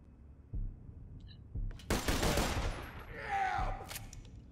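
Dahl Wet Week sniper rifle from Borderlands: The Pre-Sequel fires in sharp bursts, three short cracks early on, then a dense loud rattling burst followed by a softer trailing volley and one last shot, with no talking.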